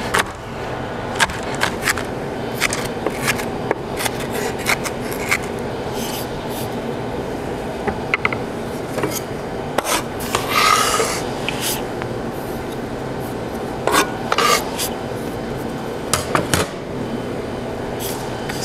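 Knife chopping halved onions on a cutting board, a steady run of quick, close, dry chops and taps that continue for the whole stretch with no talking.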